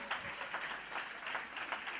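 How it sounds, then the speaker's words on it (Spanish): Congregation applause during a church sermon, a brief soft wash of clapping from many hands heard from a distance, fairly faint and uniform for about two seconds. "si lo va a aplaudir, apláudale para Dios"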